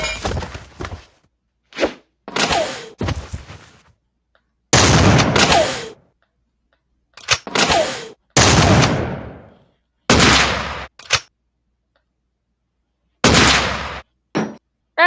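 Bursts of gunfire from the video game Madness Combat Nexus, loud and close, arriving in a dozen sharp clusters of shots with short silent gaps between them.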